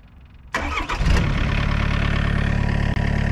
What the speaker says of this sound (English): Press and hold to start the engine.